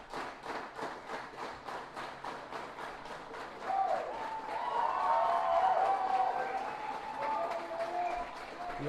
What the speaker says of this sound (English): Loud cheering from both teams. Really nice to hear.